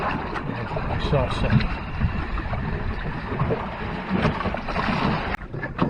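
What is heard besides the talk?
wind blowing while sailing a trimaran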